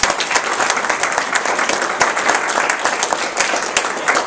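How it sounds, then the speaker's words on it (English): A crowd at a veterans' organization gathering applauds steadily and fairly loudly throughout, a dense wash of many hands clapping with no voices over it. "Let's give him a round of applause."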